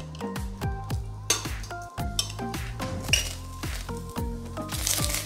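Pieces of roast pork belly drop into a hot deep frying pan, giving a run of close, repeated metallic clinks and clatters with a faint sizzle underneath.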